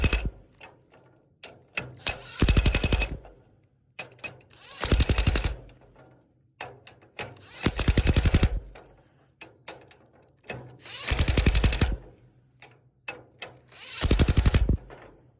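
An impact wrench on its lowest setting tightens the knife bolts on a farm mower, firing five separate loud rattling bursts of about a second each, spaced a few seconds apart, with clinks of tool handling in between.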